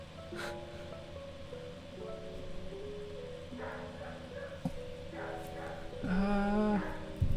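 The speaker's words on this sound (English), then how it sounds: "Can you shut up, friggin' dogs? What the hell are you barking at, mate?" Dogs barking and whimpering indoors, a few scattered barks over steady tonal background sound, then a louder burst of yips and whines near the end.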